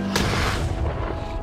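A single loud flare gun blast booms close by and fades into a rumbling echo.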